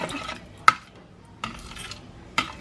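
A utensil stirs food with pomegranate molasses and salt in a pan, with three sharp clinks against the pot between soft scraping and swishing, close up and without talk.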